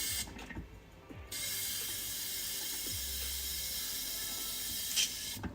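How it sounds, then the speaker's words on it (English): An airbrush sprays blue paint in a steady hiss that starts after a short pause and runs continuously and fairly close, with a faint low hum beneath. "Let's spray it."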